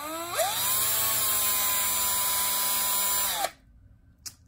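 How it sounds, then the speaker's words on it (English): A power drill whirs steadily at high speed for about three seconds while drilling holes through the top of a plastic bin, then winds down and stops, leaving near silence with a faint click. "I drill them all through the top, and that should provide plenty of air."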